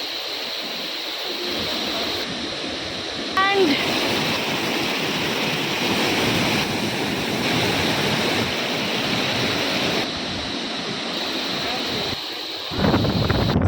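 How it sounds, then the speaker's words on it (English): Jung Falls, also called Nuranang Falls, roars as a broad, loud and continuous rush of falling, spraying water with wind buffeting the microphone, while a voice speaks briefly. "see the water spraying out"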